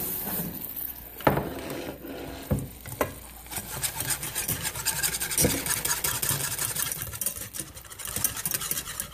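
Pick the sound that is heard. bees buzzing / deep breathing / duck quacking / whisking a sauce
whisking a sauce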